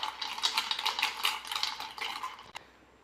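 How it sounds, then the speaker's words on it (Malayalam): Brisk rhythmic clinking and swirling as a spoon stirs a drink with ice cubes and chopped apple in a glass, repeated strokes ending with one sharp tap against the rim. "നന്നായിട്ട് മിക്സ് ചെയ്യാം"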